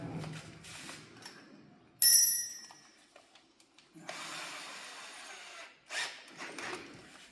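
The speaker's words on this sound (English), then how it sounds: "Make sure the drill's going the right way." A power drill whines in short bursts, with a sharp high-pitched squeal of the bit biting into sheet metal for a Ford AU Falcon's inner guards, separated by pauses and handling noise.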